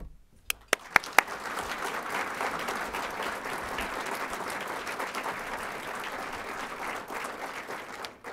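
An audience at a State of the Cities address breaks into sustained applause to welcome the speakers, starting with a few sharp claps and swelling into steady, dense clapping that fades near the end.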